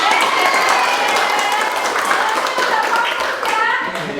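Students in a classroom clap in a rhythmic Indonesian clapping game chant, hands patting steadily while children's voices chant along throughout, close and fairly loud.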